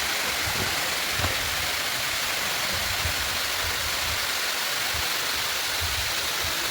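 A waterfall at Saleshwaram, a continuous dense roar of rushing water, steady and close with no voices.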